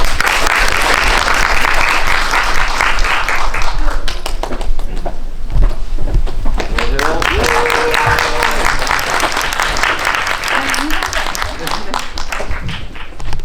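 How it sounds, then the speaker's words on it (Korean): Audience applauding at a film screening as the director and actors come out, loud sustained clapping from a full room with cheers and voices mixed in. "큰 박수 부탁드립니다"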